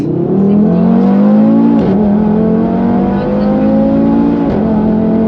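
An Audi RS3 tuned to about 700 horsepower revs hard as it accelerates, pitch climbing through gear changes, loud and close.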